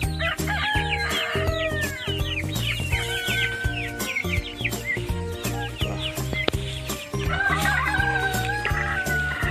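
Free-range chickens on a farm cluck and chirp while a rooster crows loudly and repeatedly, with dense layered bird calls throughout.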